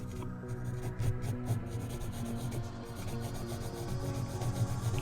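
A pencil strokes lines on paper while a face is being sketched, giving close, soft scratchy rubbing in repeated short strokes with no talking.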